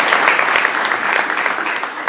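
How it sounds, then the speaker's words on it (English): An audience applauds the president-elect at a judicial investiture ceremony: steady, dense clapping from many hands, loud and continuous throughout with no pauses. "We should clap for her just for all that."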